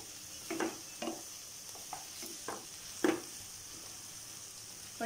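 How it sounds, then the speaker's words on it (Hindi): Potatoes fry with onions in a pan, a soft, low sizzle in the background punctuated by a few spaced scrapes and taps of a stirring spoon. "ऑनियन के साथ फ्राई होने के लिए रख देती हूँ।"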